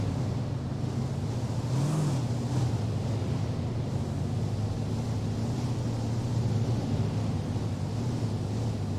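A military vehicle engine in Arma 3 drones steadily for nine seconds, a low constant rumble with a slight swell near the two-second mark, heard close from inside the vehicle.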